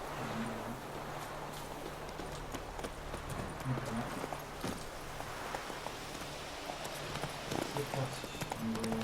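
A horse trots up in the video game Witcher 3 with irregular hoof clip-clops over ambient game sound, and someone talks over it.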